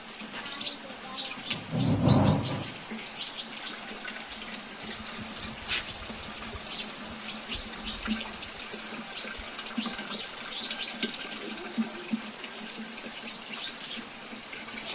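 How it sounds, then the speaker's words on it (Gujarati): Steady rain falls in a rural outdoor setting where buffalo are being grazed, a continuous broadband hiss with a brief louder rumble near the start and no talk. "એક પાણ જોગો થઈ ગયો વરસાદ."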